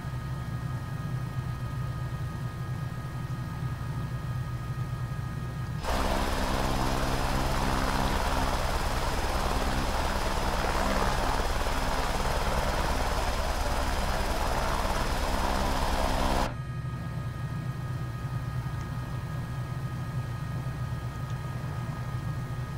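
An H125 helicopter on offshore operations in Microsoft Flight Simulator: a quieter hum swells into a loud, steady rotor and turbine roar that holds for about ten seconds, then drops back to the softer drone.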